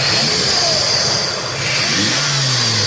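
A Dodge T-Rex 6x6 truck's V10 engine runs loud and close, holding a steady rumbling drone with a rising rev toward the end.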